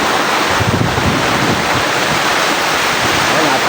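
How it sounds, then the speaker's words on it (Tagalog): Strong wind roars and heavy rain pours steadily across a farm with a cornfield, a loud, continuous wash of noise with buffeting against the microphone. "Napakalakas ng ulan yan. Mga lakas pa ng hangin."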